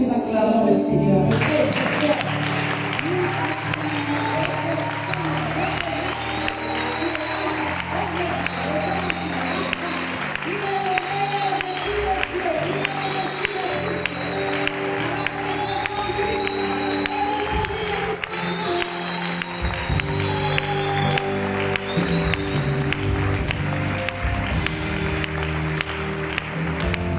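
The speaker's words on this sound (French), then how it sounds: "acclamez la pour vous-même très fort." A church congregation at a revival service applauds and cheers for a long, continuous stretch, with crowd noise, raised voices and sustained musical tones underneath.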